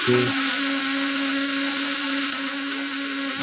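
High-voltage fish stunner power supply buzzing under load, a steady close tonal whine with a sharp click at the start, continuous and alone without speech.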